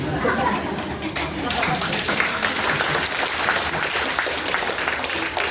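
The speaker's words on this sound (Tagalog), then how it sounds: "Parang slow motion yung palakpak nyo." A church congregation clapping during a Sunday service in Bacoor, a loose, sustained patter of many hands with murmured voices and a bit of chatter mixed in.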